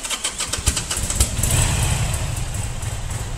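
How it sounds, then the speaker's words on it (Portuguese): A custom motorcycle engine running close by, a steady loud rumble with rapid popping pulses at first that settle into an even idle, with no voices over it. "A moto do Lucas aqui, velho."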